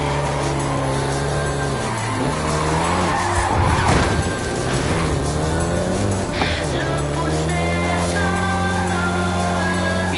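A Volkswagen Golf GTI in Forza Horizon 5 drives hard with a loud, sustained engine drone and screeching tire skids that swell and shift pitch as it slides through turns.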